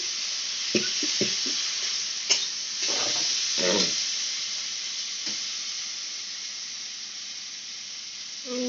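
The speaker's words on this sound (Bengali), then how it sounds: "মশলাটা ভালো করে নাড়িয়ে চাড়িয়ে নিই যতক্ষণ না মশলা থেকে তেল ছেড়ে যাচ্ছে ততক্ষণ" Spice paste for a vegetarian raw-banana kofta curry fries in oil while being stirred. A few utensil scrapes come early, then a steady, even sizzle carries on alone.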